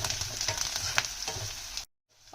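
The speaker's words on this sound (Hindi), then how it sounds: "ये प्याज स्लो स्लो फ्राई हो रहा है" Onions frying slowly in oil over a medium flame, a steady close crackle and sizzle with light stirring scrapes, then cutting off abruptly into near silence.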